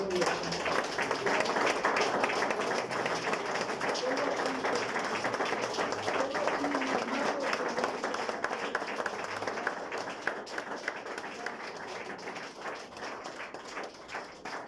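Congregation applauding during a Sunday church service, a steady dense wash of clapping that stays loud throughout and eases slightly toward the end.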